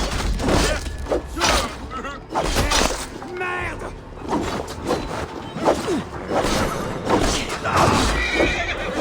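Horses whinny and neigh repeatedly during the Siege of Paris in Assassin's Creed Valhalla, amid a busy mix of hooves, clatter and shouting, loud and chaotic.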